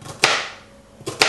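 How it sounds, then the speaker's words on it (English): Celery is chopped with a two-blade chopper, giving two sharp, close knocks about a second apart with a brief bright ring after the first. "So I'm just going to chop these celery into about an inch long"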